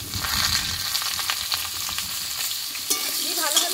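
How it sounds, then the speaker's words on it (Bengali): Cut and washed potato and papaya tipped together into very hot oil with tempered spices, giving a loud continuous sizzle with stirring scrapes and a sharper crackling flare near the end. "এবার কেটে ধুয়ে রাখা আলু পেঁপেটা আমি একসঙ্গে দিয়ে দেবো"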